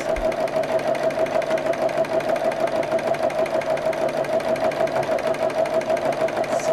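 A sewing machine runs a running stitch on a bug bag, giving a continuous, even mechanical whir with a fast regular pulse that is close and steady throughout.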